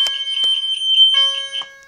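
A fire alarm system sounds after a smoke detector is triggered: a loud, high-pitched electronic tone pulses in a steady repeating rhythm, with a few sharp clicks among the beeps and no voices.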